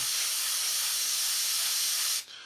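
A model airbrush spraying paint gives a steady, bright hiss for about two seconds, then cuts off abruptly, leaving a quieter hiss.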